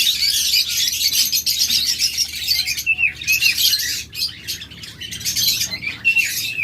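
Caged lovebirds or budgerigars chirp in a dense, continuous chatter of high, rapid tweets and squawks, loud and close, with a brief dip before the flock noise resumes.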